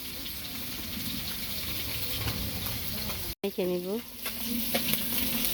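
Fish frying in a hot pan at a home kitchen, a steady broadband sizzle running throughout with brief stirring clatter, while a voice speaks briefly in the middle.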